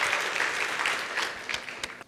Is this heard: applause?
yes